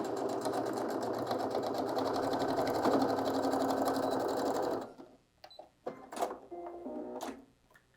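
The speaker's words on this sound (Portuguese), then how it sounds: "E aí a gente só junta aqui e vai para a máquina costurar." A sewing machine stitches a fabric toiletry bag, running steadily and close with a fast whirring rhythm for about five seconds, then stopping, followed by scattered handling clicks and a brief short run.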